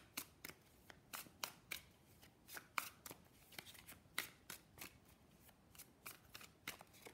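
Tarot cards are shuffled during a reading, a quiet run of sharp, rhythmic riffling snaps repeating steadily, close and alone without talk.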